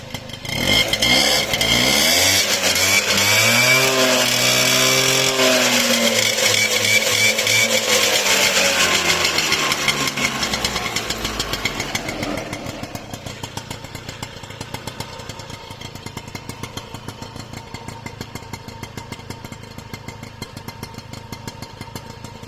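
A Mobylette moped engine revs loud and close, climbing and falling in pitch, then settles back to a buzzing, rattly idle.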